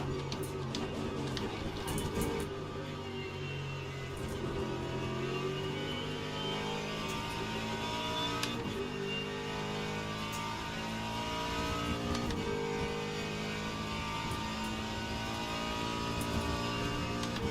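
GT3 race cars, including a Mustang and a BMW, roar around Sebring in the Le Mans Ultimate racing game, with engine drone rising and falling through gear changes as cars run side by side.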